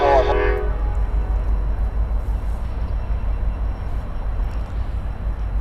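Locomotive horn in a Norfolk Southern railroad yard in Chattanooga, Tennessee: a short loud blast at the start, then fading into a low idling diesel rumble.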